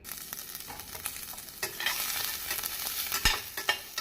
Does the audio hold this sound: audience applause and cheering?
no